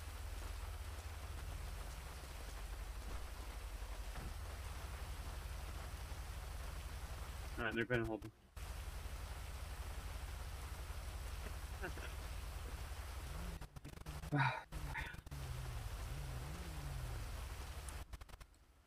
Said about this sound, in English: it's been raining for like an extremely long time